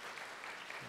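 A church congregation claps for the students during a Sunday service, a brief, soft burst of applause from a roomful of people.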